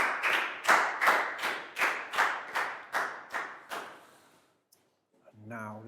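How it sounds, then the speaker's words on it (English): Rhythmic hand clapping from a classroom of children, about ten quick claps in a steady beat, fairly close and clear, that fade out; a brief voice follows at the end. "High five and a big round of applause for Bangpon."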